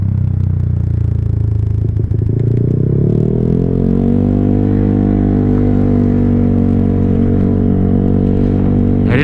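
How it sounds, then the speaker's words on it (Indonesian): A motorcycle with an aftermarket slip-on exhaust idles, then revs up into a loud, steady, droning exhaust note, running close by with no talk. "gue pun juga nggak terlalu betah sih sama suara knalpot ini"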